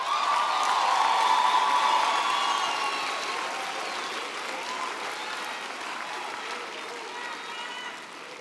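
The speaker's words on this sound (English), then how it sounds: "I also want us to salute with a round of applause our beautiful graduates." A large audience at a university autumn graduation ceremony in Gqeberha applauds the graduates, a dense wash of clapping with some cheering that swells early and then gradually tapers off.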